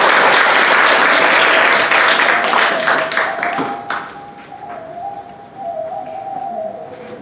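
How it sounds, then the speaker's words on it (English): An audience at a tea ceremony demonstration bursts into loud, dense applause that thins into scattered claps over a few seconds, then dies away while a faint tone lingers. "Round of applause from the audience"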